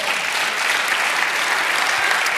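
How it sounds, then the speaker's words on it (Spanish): Congregation applauding during a church service, a dense, loud wall of clapping with no breaks. "Dale un aplauso al Señor."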